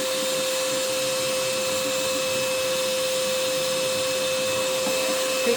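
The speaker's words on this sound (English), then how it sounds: "I'm just talking over the vacuum here so you can see how quiet it is" An Einhell 18 volt cordless wet and dry vacuum running steadily, a constant whirring motor whine with airflow rush, close and unbroken throughout.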